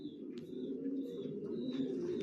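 Racer pigeons coo softly in a low, continuous murmur, with a few faint chirps from other birds over the top.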